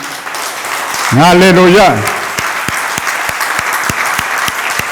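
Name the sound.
congregation applauding and cheering for Jesus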